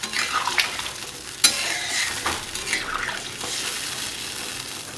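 Spices being stirred in a frying pan for a Bengali hilsa fish curry with potato and taro, giving a scraping, sizzling rustle with a sharp clack partway through, followed by a softer watery hiss as water goes in.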